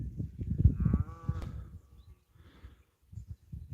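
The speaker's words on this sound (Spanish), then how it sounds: "La vaca viene bramando aquí y aquí desaparece la pista." A cow calls on open plains, a low moaning bellow near the start, then quieter scattered rumbles and outdoor noises that fade in and out.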